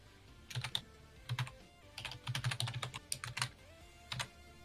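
Close, fairly quiet typing on a computer keyboard in bursts of quick clacking keystrokes separated by short pauses, with no talking.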